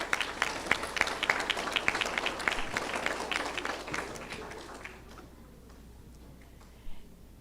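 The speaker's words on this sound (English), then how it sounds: "Let's give him a round of applause." Applause at a 4th grade awards ceremony, dense clapping from an audience for about five seconds that then fades to quiet room noise with a few scattered claps.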